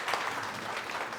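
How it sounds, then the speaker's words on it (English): Applause from the audience at a Korean American Day celebration, a soft, continuous patter of many hands clapping in a hall, fairly distant and quiet. "박수 부탁드리겠습니다."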